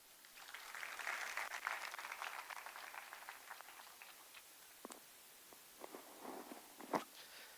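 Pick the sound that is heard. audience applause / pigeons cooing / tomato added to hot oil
audience applause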